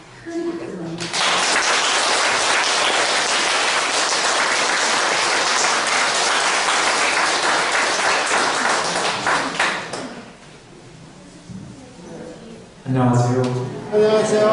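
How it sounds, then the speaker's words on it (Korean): A large gathering at a Catholic parish retreat lecture breaks into loud, sustained applause for about nine seconds, which fades into near quiet before a voice begins speaking. "큰 박수 보내주세요."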